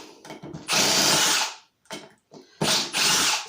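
A Milwaukee 18V Fuel Surge impact driver driving 3-inch screws, two loud close bursts of whirring drive separated by short pauses and brief clicks.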